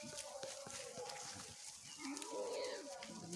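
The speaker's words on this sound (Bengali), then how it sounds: "দেখেছেন কত ছাগল, আমার এই ছাগলগুলো সব চড়ছে।" A herd of goats grazes outdoors in the morning, with scattered animal calls and a brief bleating cry over a steady rustling outdoor background.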